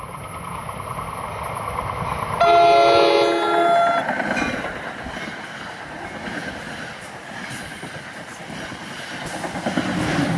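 A commuter train bound for Hoboken from Wall Lake races through Clifton station at speed, its horn sounding loud and close for about a second and a half, followed by a rushing roar of wheels and cars rolling past.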